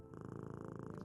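A cat purrs steadily and close up inside a Minecraft roleplay game, with a soft rhythmic rumble of repeating pulses and no talking over it.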